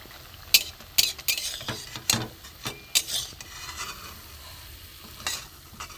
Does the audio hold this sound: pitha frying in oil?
yes